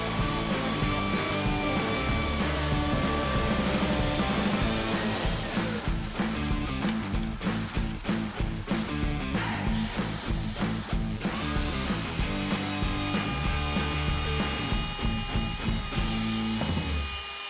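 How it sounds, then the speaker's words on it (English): Steady, loud power-tool cutting noise, a router chewing channels into wood with rapid rhythmic chatter that runs continuously for several seconds, no voices. "I'll route the channels in here for our guiding pin to sit."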